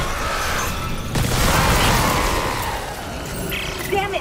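Explosion in the Dead Space Remake video game, a broad, loud rumbling blast that swells and holds for a couple of seconds among dense game noise and mechanical clatter.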